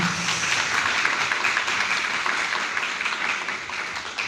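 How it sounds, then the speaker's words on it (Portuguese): A church congregation applauds in praise of Jesus during a worship service, producing a steady, dense wash of clapping that holds evenly throughout with no break. "Aplauda Jesus, que Ele merece."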